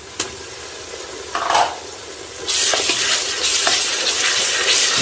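Ginger garlic paste frying with onions in a pot for chicken biryani, a steady loud sizzle that swells after a brief stir and keeps crackling without talk.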